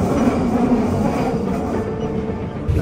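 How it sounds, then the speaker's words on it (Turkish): Paris metro train riding along, a steady loud rumble of rails and carriage noise filling the car throughout with faint clatter, no talk. "Metrodayız."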